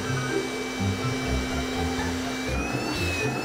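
A cheap car vacuum cleaner runs off a weak 12-volt converter, giving a steady, moderately quiet motor whine and airflow hum with a slight pitch shift near the end, with no talk.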